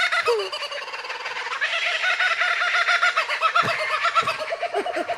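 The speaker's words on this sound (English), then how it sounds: "You want to hear the laughing kookaburra one more time?" A laughing kookaburra recording rings out again in a sustained, raucous burst of rhythmic cackles and hooting calls, loud and continuous with occasional thumps in the background.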